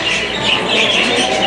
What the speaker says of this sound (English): We got some parakeets. All of the parakeets.